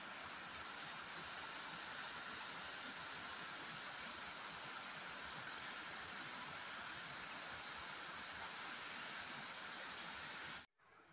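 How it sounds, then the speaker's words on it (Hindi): Sila Chowki waterfall near Dehradun in the evening, a loud, unbroken roar of falling water close by that cuts off abruptly at the very end. "शाम का वक्त और सुंदर झरने की आवाज।"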